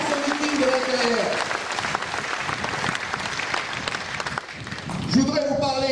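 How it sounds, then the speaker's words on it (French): A crowd at a Caledonia Ensemble political rally and congress in New Caledonia claps in sustained applause, with a voice speaking over it near the start and again near the end. "Applaudissez-les aussi."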